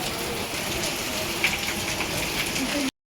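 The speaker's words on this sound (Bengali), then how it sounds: "প্রচুর পরিমাণে বৃষ্টি হচ্ছে।" Heavy rain pours down steadily and loudly, a dense continuous hiss of drops on surfaces close by, with no pause before it cuts off abruptly.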